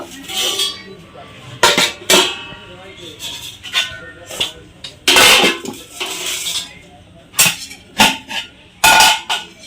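Metal clanks and scrapes of a serving spoon against a pot while cooked rice is dished out in a home kitchen, a string of sharp irregular knocks of varying loudness, close by.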